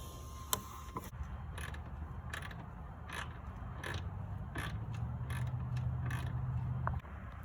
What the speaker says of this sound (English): So I'm gonna raise it up real quick. A 10 mil right down there.